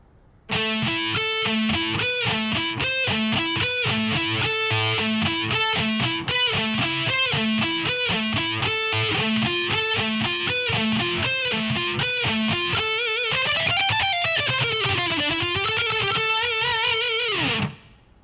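A lick on distorted electric guitar at slow tempo, a long run of rapid, evenly picked notes for about seventeen seconds ending in bends and vibrato on held notes, close and solo.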